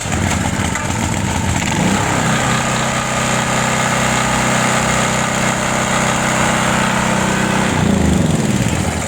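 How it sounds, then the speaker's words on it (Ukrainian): A petrol generator fitted with a new carburetor runs at a steady, even engine drone with no surging or hunting in speed, loud and close, holding constant for the whole stretch with no talking. "Оберти не коливаються, генератор працює рівненько"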